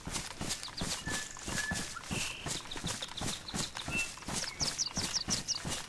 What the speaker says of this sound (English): Thought I heard another pair of footsteps